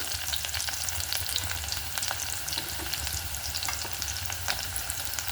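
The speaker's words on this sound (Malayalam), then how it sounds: "കൊച്ചുള്ളി ഇട്ട് കൊടുക്കാം." Shallots sizzle steadily in hot coconut oil alongside popped mustard seeds, a close, continuous frying hiss dotted with small crackles and faint stirring, with no voices.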